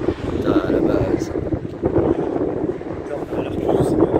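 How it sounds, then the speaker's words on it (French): Strong, gusty wind roars into the microphone beneath an arcus cloud at the leading edge of a thunderstorm, a steady close buffeting rumble with surges, while voices talk over it. "il y a le vent qui s'affole"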